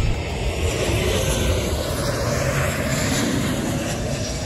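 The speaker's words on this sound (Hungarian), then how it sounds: "minél hamarabb oda tenni a kereket, és minél hamarabb megkezdeni a fékezését a repülőgépnek" An airliner landing at Corfu brakes hard on the runway, heard from inside as a loud, steady roar of engines and rushing wind that fills the whole moment.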